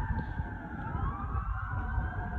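Fire engine and tanker sirens wail steadily as the Tantallon station 65 trucks pull out for a structure fire, a continuous rising and falling tone over heavy low engine rumble, fairly distant and unbroken.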